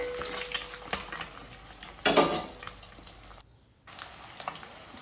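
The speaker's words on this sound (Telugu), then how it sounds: "ఎగ్స్ని బాగా ఫ్రై చేసుకున్న తర్వాత కొంచెం బాగా ఫ్రై అవ్వాలండి" Eggs frying in a pan for a spicy egg and coconut dish, giving a steady close sizzle broken by stirring and scraping, with a louder burst near the middle, a brief dropout, then the sizzle returns.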